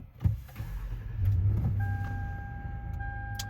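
A 2010 Lexus RX350 with newly replaced ignition coils starts and settles into a steady idle. A key clicks first, then the low engine hum holds, with a faint electronic chime tone and light clicks heard close by.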